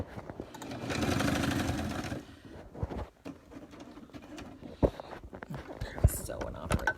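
Sewing machine stitching in a steady rapid run for about two seconds, then stopping, followed by quiet handling clicks and taps nearby.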